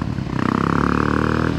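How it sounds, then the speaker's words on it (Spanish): A Voge 300 Rally motorcycle fitted with an aftermarket cross exhaust, running close by with a loud, rough, throbbing engine note that rises as it revs, heard alone. "lleva el escape de Cross en la 300 Rally, y eso suena que no veas"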